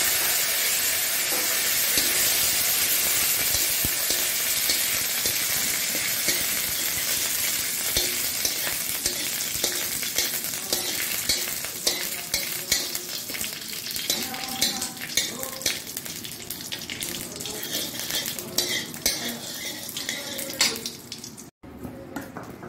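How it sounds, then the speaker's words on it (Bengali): Curry leaves and mustard seeds crackle and sizzle in hot oil in a wok, a loud, dense spitting fry that runs steadily throughout with scattered sharp pops. "কড়াইতে তেল দিয়ে কাঁচাটা ছড়িয়ে দিয়ে দিই, কারি পাতা আর সরষা"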